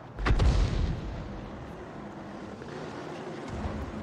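Tanks trading fire in World of Tanks: one heavy, booming cannon blast near the start, then a long rumbling decay and steady engine-like drone.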